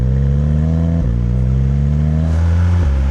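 Loud, raw sports car exhaust revving with both mufflers removed and a full exhaust setup, a deep, steady rumble that dips briefly as the revs shift, close and continuous.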